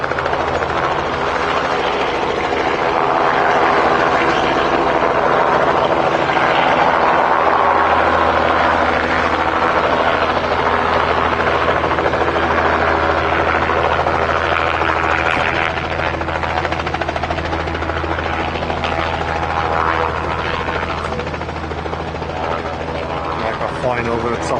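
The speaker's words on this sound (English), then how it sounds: "Heli just taking off again, ready for the hover taxi over to the runway" Helicopter lifting off for a hover taxi to the runway at Barton Aerodrome, Manchester, during a fly-in event, its rotors a loud, steady thudding drone over a deep engine hum, with a voice talking over it.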